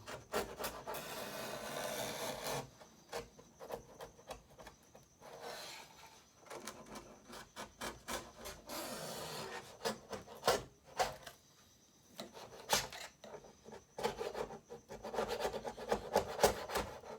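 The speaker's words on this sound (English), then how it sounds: "And I think I'll trim all the way around here as well." Hand trimming of a fresh horizontal stabilizer layup along the mold edge, heard as close, intermittent rasping and scraping strokes in short bursts with quiet pauses between them.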